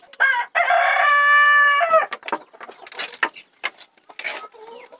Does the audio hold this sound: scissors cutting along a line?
no